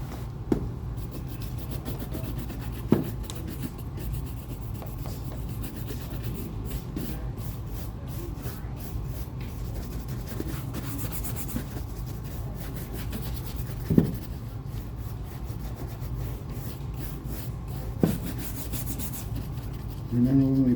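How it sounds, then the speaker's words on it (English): Soft, steady bristle rubbing as a brown brush works cream lightly into alligator leather boots, a close continuous brushing texture with occasional faint taps and no talking. "Remember, when we brush, we're barely touching the surface. Just letting the weight of the brush fall on the leather."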